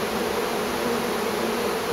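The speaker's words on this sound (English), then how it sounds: "Seriously the biggest swarm I've ever seen." A huge swarm of bees buzzes around the keyhole of a treasure chest, a dense, loud, continuous hum with no break and no voices.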